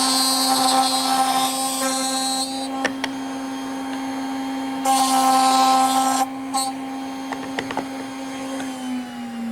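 A woodworking router cuts dados across a board, giving a steady high-pitched motor whine that grows harsher and louder during bursts of cutting before settling back to an even hum.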